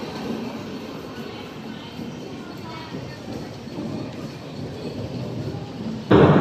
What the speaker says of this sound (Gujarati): આ છે આજે અત્યારે ટ્રેન આવી 5મા નંબરના પ્લેટફોર્મ ઉપર આવી